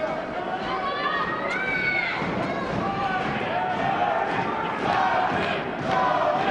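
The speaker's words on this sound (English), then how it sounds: "And the crowd here in Edmonton cheering on Tony Badea." Boxing crowd in an Edmonton arena roaring steadily, a dense wash of shouts and cheers that swells near the end, with a commentator talking over it.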